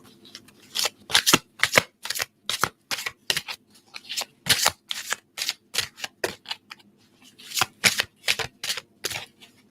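Tarot cards riffled and shuffled by hand outdoors, a fast run of crisp flicking bursts in uneven clusters with brief pauses, close and clear with no talking.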